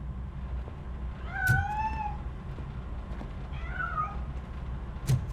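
Two drawn-out meows from a cat in RoboCop: Rogue City, a few seconds apart, faint and slightly distant over a steady low background hum, with soft knocks nearby.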